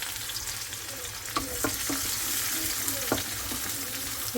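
Bottle gourd frying in a pan with cumin for a breakfast dish, a continuous close sizzle punctuated by several light stirring knocks of a spatula, with faint background noise.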